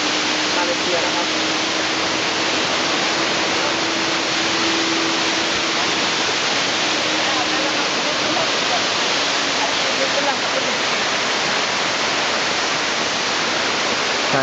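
Iskandar Waterfall in Malaysia, a natural waterfall, pours in a constant dense roar of falling water, loud and unbroken across the whole span, with no talk over it.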